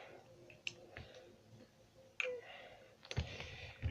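Plastic clicks from a Transformers Titans Return Skullsmasher figure being folded and flipped into shape: several sharp, isolated snaps spaced irregularly, close and fairly quiet, with a couple of louder clacks near the end.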